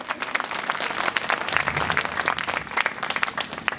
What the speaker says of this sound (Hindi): एक बार दोनों हाथ ऊपर करके ताली बजा के आदेश दीजिए